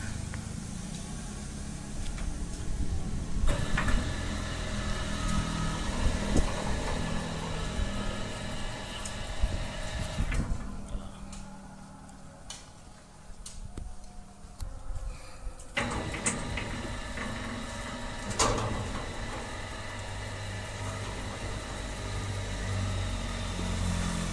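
A 1400 rpm electric motor driving an automatic sliding gate, humming and rumbling steadily with mechanical clunks, quieting for several seconds midway before picking up again.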